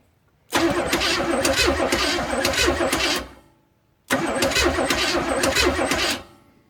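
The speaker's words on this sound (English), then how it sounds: "Let's just see what she sounds like turning over real quick." A truck engine, just fitted with a new carburetor, cranks over twice in two bursts of about three seconds each, loud and close, with a short pause between and no one talking.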